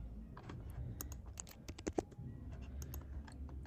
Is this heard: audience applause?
no